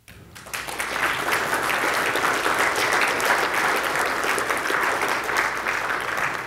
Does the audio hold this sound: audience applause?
yes